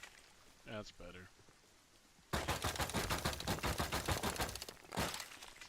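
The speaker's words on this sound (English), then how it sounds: "So the explosion you just heard" A loud, dense burst of explosive cracks and rattling blasts from a raid in the video game Rust erupts suddenly after a quieter stretch with a faint voice, continuing as a sustained barrage with a second surge near the end.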